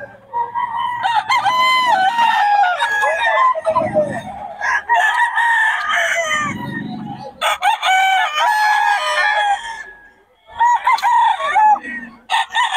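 Roosters crow and chickens cluck repeatedly at a busy Bocaue flea market, several loud calls overlapping in bursts with brief gaps, with a vendor talking at intervals.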